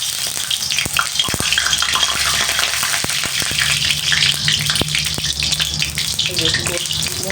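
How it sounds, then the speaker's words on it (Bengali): Thick-cut onions frying in very hot oil for a mutton curry, a loud, steady sizzle and crackle with sharp pops and spits running throughout, close by. "মোটা মোটা করে যে পেঁয়াজগুলো কেটে রেখেছি, এগুলো আমি এই তেলের মধ্যে কিন্তু ভেজে নেব।"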